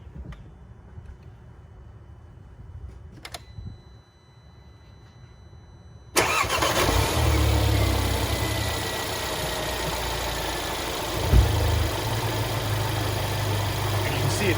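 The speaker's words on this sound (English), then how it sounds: "We're going to start the car and make sure that the battery doesn't drop below 10 volts." A car engine cranks and catches during a battery and alternator test, then settles into a steady, loud idle that fills the rest of the clip after a quiet stretch with faint background noise.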